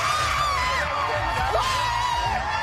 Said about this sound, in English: She's the one screaming, not the crowd, right?